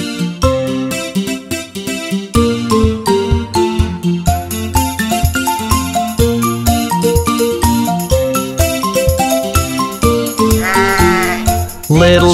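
A sung nursery rhyme carries a melodic sheep-like bleat over a bouncy, steady children's-song backing, loud and continuous, with a wavering vocal flourish near the end.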